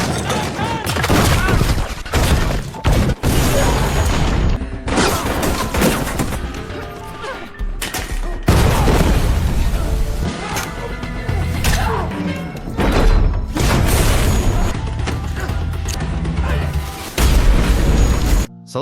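Bomb blasts and crashing in a brutal shop fight from the 2025 action film Ballerina, with loud repeated booms, smashes and rapid bursts packed into a dense, chaotic soundtrack that runs almost without a break.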